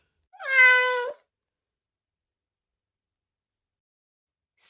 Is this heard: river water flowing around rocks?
no